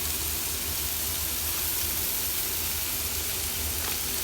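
A big chunk of Australian butter sizzles steadily in a hot pan beside a sous vide steak, a loud, close, even hiss of frying that carries on without pause.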